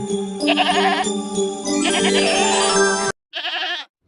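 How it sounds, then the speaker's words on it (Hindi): A goat bleats loudly and close, a long wavering cry followed by a short second bleat after a brief pause. "यह तो बकरी के चिल्लाने की आवाज है"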